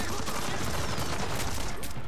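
Sustained rapid gunfire from a weapon in the stealth shooter Splinter Cell Blacklist, a loud unbroken burst of shots filling the whole stretch with no pauses.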